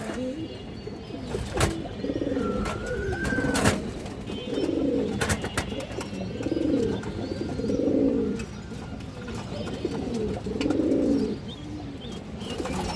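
High-flyer pigeons at a pigeon farm, cooing in repeated low rolling bursts close by, with a few sharp knocks and bird chirps between the calls.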